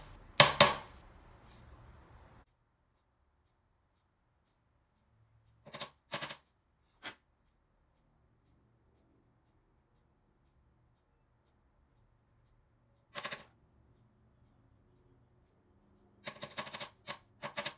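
A hole puncher cuts holes into the clay wall of a six-sided teapot, giving sparse short scraping and clicking bursts separated by long near-silent gaps, close and quiet, with a faster cluster at the end.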